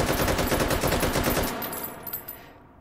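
A burst of rapid automatic fire from an AKM rifle fitted with a muzzle brake in the game H3VR, loud and close, the shots tailing off into a short echoing decay.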